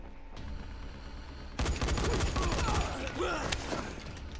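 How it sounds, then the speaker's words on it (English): Dying Light gameplay: a machine gun opens up abruptly and rattles in a dense rapid burst of shots for about two seconds, fairly close and loud, then tapers off amid background noise. "They cut him in half with a freaking machine gun"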